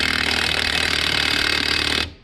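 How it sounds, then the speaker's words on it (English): A handheld power tool tightens a bolt on a car with a loud, continuous rattling hammer that cuts off abruptly after about two seconds. "I'm gonna tighten this thing up using this tool"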